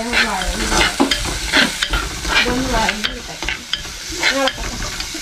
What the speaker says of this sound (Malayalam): അപ്പം നമ്മൾ ഇനി അതെല്ലാം കൂടി നമ്മൾ വഴറ്റിയെടുക്കാൻ പോവുകയാണ്